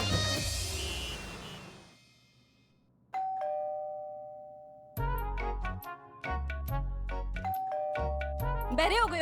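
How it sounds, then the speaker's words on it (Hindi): A two-tone ding-dong doorbell rings several times indoors, the chimes sounding clearly between and over people talking. "कब से घंटी बज रही है, सुनाई नहीं दे रही है?"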